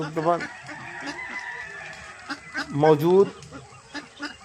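Someone talks while ducks on a farm fish pond give a couple of short quacking calls nearby, one near the start and one about three seconds in, with faint calls between.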